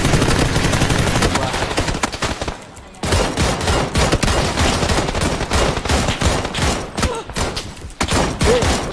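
QBU rifle fire in PUBG: loud, dense shooting over nine seconds, with rapid overlapping shots and one short lull before the firing resumes.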